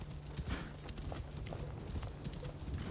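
A horse trots along in Assassin's Creed Shadows, its hooves giving a steady run of clip-clops close by over low ambient game sound.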